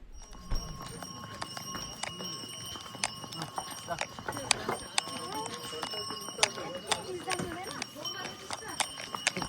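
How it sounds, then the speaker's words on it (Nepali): A horse carrying a rider walks along a mountain trail toward Muktinath in Mustang, hooves clip-clopping in an irregular, close rhythm while people talk over it. "हामी चाहिँ घोडा चढेर we are going to Muktinath"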